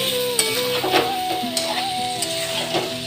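Chicken curry sautéing in a wok (kadai), with a steady loud sizzle and repeated scraping and clinking of a spatula against the metal as it is stirred, close up with no talk.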